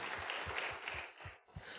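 A congregation applauds at a special early-morning prayer service in a church, a steady wash of many hands clapping together at moderate loudness with no talking over it.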